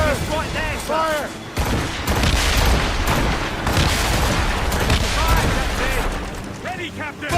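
Ship cannons boom in a naval battle in Assassin's Creed Rogue, a rolling barrage of heavy blasts with shouted crew voices and orders over the gunfire.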